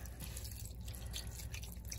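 A slow flow of water runs from a household tap, a quiet steady trickle with faint dripping and splashing, alone without talk.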